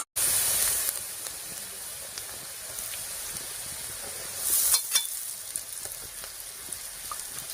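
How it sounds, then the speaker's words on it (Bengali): Chopped onions frying with turmeric, salt and coriander powder, giving a continuous bright hissing sizzle that swells briefly with stirring partway through, with no voices. "হলুদ, লবণ আর ধনিয়ার গুঁড়োটা দিয়ে একটু ভালো করে মিশিয়ে নিয়েছি।"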